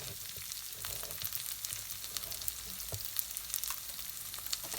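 Lentil curry sizzling steadily in a frying pan while being stirred, a continuous close hiss and crackle with small scraping spikes, no voices.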